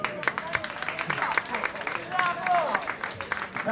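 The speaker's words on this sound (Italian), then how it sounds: "Un applauso Alessio." Audience applause at a dinner concert by a duo at Bagno Milano in Viareggio, a steady wash of clapping with a voice speaking over it and a few faint sung or whistled tones.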